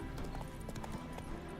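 Roach the horse clops along in The Witcher III, a soft, fairly distant run of evenly spaced hoofbeats with no voices over it.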